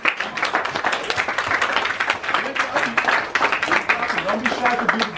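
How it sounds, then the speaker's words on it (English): High school audience clapping at a motivational speech, a dense, continuous round of applause with a voice talking loudly over it throughout. "Keep clapping."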